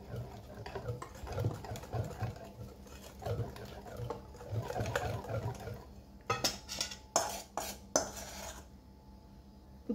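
Yeast is stirred into cake batter ingredients in a bowl, a quiet rhythmic scraping and sloshing that gives way to a few sharper clinks and taps near the end.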